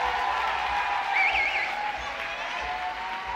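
Crowd applause and cheering for a swing dance couple announced at a competition's open finals, a steady broad wash of clapping and crowd noise that holds evenly from start to finish.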